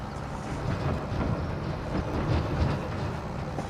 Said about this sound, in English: Love the sound of that trailer.